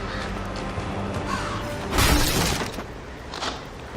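A crow caws in the hack-and-slash video game Vikings - Wolves of Midgard, set against game ambience with a louder burst of crashing effects in the middle.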